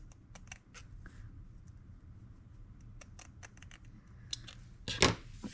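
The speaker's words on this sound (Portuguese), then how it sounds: "Minha tesoura tá meio cega pra tecido" Scissors with a somewhat dull blade cutting fabric bag lining, a run of crisp snipping strokes at an uneven pace, close up, ending in a louder cluster of cuts.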